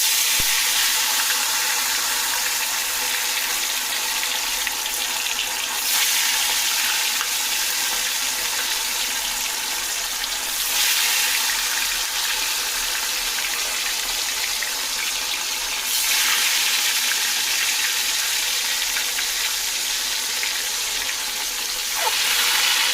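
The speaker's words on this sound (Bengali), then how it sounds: "মাছগুলোকে আমি ছেড়ে দিয়েছি। এবারে দুটো পিঠ ভালোভাবে উল্টে পাল্টে ভেজে নেব।" Fish dropped into well-heated oil in a pan: a steady, loud hiss and sizzle that continues throughout, swelling slightly in waves, with no talk over it.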